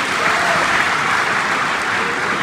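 Dense, loud applause from a theatre audience for a comedian fills the whole moment, a steady wash of clapping with no pauses.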